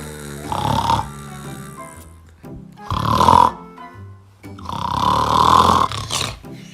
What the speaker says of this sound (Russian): Ты чё, храпишь?